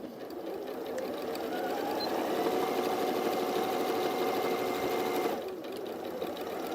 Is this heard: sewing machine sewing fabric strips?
yes